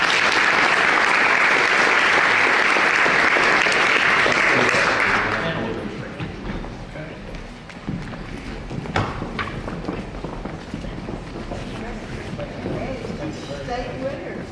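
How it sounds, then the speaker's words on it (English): A school event audience breaks into loud applause for a departing transportation department staff member, the dense clapping fading after about five seconds into room murmur, scattered footsteps and indistinct voices. "Please join me in giving him a round of applause."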